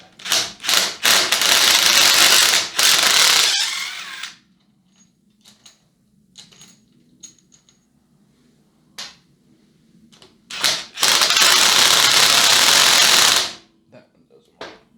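A socket wrench ratchets on a bolt of a Honda CG125 motorcycle under build, with two loud sustained bursts of rapid clicking separated by quieter tapping and handling noises.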